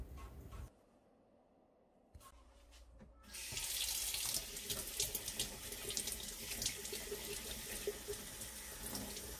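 Tap water runs into a sink while a stain is washed out by hand. After a brief quiet stretch, a steady, close rushing and splashing of water continues to the end.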